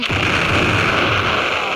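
Bomb blowing open a safe in a house-robbery video game: a loud, dense blast with a sustained rumbling roar that fills the whole moment.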